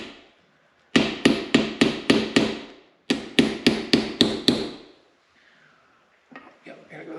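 Sharp metallic hammer-like blows drive a rear axle bearing into a New Holland TC26DA tractor using an outer sleeve, two rapid runs of about six strikes each, close and loud, followed by quieter clatter.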